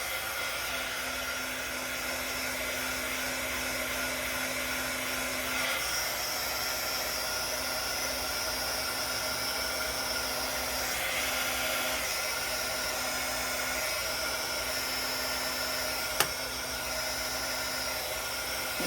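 A heat tool blows continuously over epoxy in a pet food or water pail, a steady close-up whooshing hiss with faint tonal whine that wavers slightly, plus one sharp click near the end.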